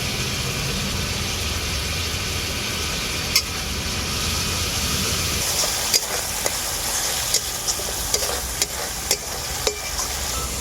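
Spiced sour yogurt with Kashmiri chili powder being stirred and fried in a pan for a soybean curry, a steady soft sizzle with occasional sharp scrapes of a spoon against the pan, no voices.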